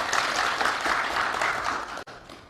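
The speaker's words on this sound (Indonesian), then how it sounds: "tepuk tangan dulu" A crowd at a parliamentary hearing claps in dense, continuous applause that carries steadily before a brief break near the end, moderately loud with no speech over it.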